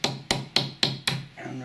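Metal Viking brooch held in a vise being hammered: five sharp, ringing strikes at an even pace, close and loud, followed by a brief low scraping tail.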